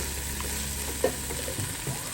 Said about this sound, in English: That's the pasta boiling.